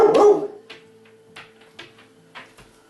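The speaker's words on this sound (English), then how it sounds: "you are Concho, the homestead dog" Concho, a homestead dog, lets out one loud, sharp bark up close, followed by a few faint, short yips and snuffling sounds in a quiet indoor space.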